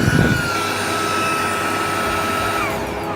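A handheld vacuum blower runs close and loud with a constant whining roar while cleaning out a Plaid car interior, and its pitch drifts slightly as it operates.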